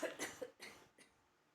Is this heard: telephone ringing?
no